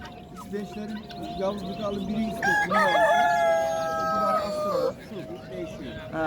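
A rooster crows loudly and close by, one long drawn-out call, with people talking in the background at the Edirnekapı bird market in Istanbul.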